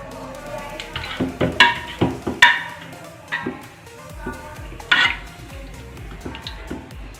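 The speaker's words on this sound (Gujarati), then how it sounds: "આ શાકને છે ને છુંદી કાઢવાનું." Cooked vegetables for pav bhaji being mashed in a pot, a series of repeated thuds and metallic clinks from the masher striking the pot, uneven rhythm, close by, with faint background noise.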